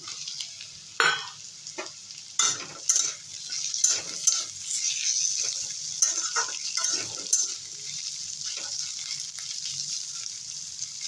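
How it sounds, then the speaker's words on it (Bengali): Potatoes stir-fried with onion in a pan, tossed and scraped with a spatula in irregular bursts over a soft, continuous sizzle. "আলুটাকে নেড়ে চেড়ে একটু কষিয়ে নেব"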